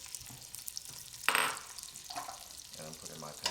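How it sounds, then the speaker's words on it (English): Onions tip into hot oil in a pan with a bright burst of sizzling, and a softer crackle continues afterward. "So I have my oil that's gotten a little hot. I'm gonna put in my onions"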